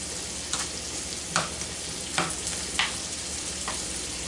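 Vegetables sauté in a hot pan for ranch style noodles with Italian sausage, giving a steady, close sizzle with a few sharp crackles and stirring scrapes. There is no talking.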